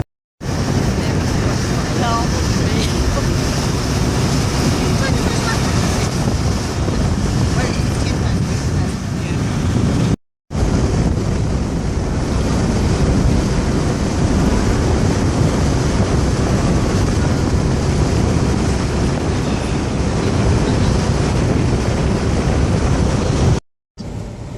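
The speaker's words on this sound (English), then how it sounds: "About a 30-minute ferry ride." A ferry crossing open water between County Cork and County Kerry, with a constant loud roar of wind buffeting the microphone over rushing waves, broken by a brief cut partway through.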